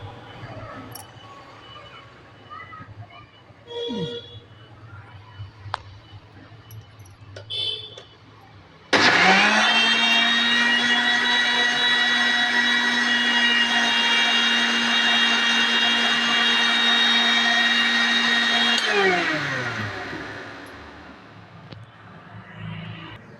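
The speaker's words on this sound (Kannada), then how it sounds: "ಈಗ ಮಿಕ್ಸಿ ಹೊಡ್ಸತ್ತನು. ಈಗ ಹೆಂಗೆ ಬರ್ತದೆ ಬೆಣ್ಣೆ ಅಂತ ನೋಡು." A kitchen mixer grinder churns cream into butter with a loud, steady motor whine for about ten seconds, then winds down. Quieter handling noises come before and after it.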